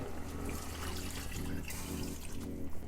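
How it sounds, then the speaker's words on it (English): Water poured from a container into a soup pot of stuffed-artichoke soup on the stove, a steady close splashing pour running for about three seconds with no talk. "I'm gonna pour some water in here."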